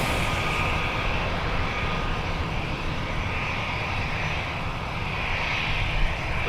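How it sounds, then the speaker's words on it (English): Delta A319, an ex-Northwest red-tail airliner, rolling out on the runway after landing from Mexico City, heard as a steady, fairly loud broadband jet roar with a hissing upper band that swells and eases slightly throughout. "Rolling out after touching down is Delta 605, former A319 Red Tail with Northwest from Mexico City."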